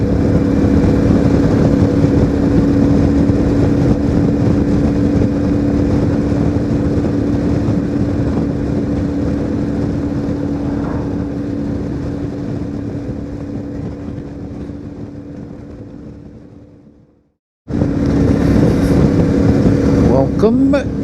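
A CFMOTO 450MT motorcycle cruises past Lake Taupo in New Zealand at night, with a steady close engine drone and wind rush that gradually fades, drops out briefly, then returns.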